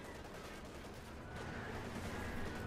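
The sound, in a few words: grenades exploding in Company of Heroes 2 (video game)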